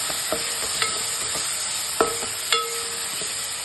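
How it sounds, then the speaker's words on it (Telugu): Turmeric being stirred into a cooking tomato mixture in a pan for a sweet potato dish, with a soft steady sizzle beneath several sharp scrapes and clinks of a spoon against the pan, close up and with no talking. "కొంచెం పసుపు అంటే కొంచెం వేసుకొని బాగా మిక్స్ చేసుకోవాలి."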